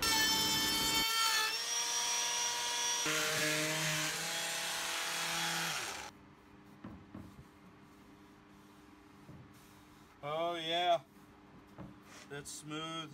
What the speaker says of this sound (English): I think I'll just be able to sand that pretty easily